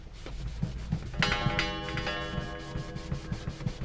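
Steady rubbing on the stained wood case of an antique grandmother wall clock, a continuous close scrubbing with rhythmic strokes and a brief ringing tone partway through, no speech.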